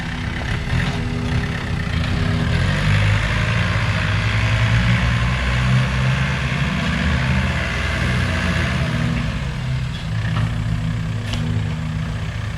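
A John Deere machine's engine runs steadily during a cleanup job, giving a continuous low, droning rumble at a constant level throughout, with no talking.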